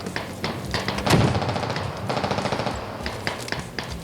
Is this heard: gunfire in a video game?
yes